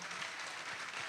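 Audience at a school graduation ceremony applauding, a faint, distant, even patter of clapping throughout.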